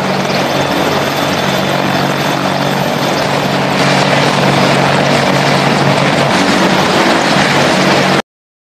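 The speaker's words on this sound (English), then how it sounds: "The AH-64 Apache is the primary attack helicopter for the United States Army" A US Army AH-64 Apache attack helicopter flies close and loud, its rotor and engine roar steady and dense throughout before cutting off abruptly.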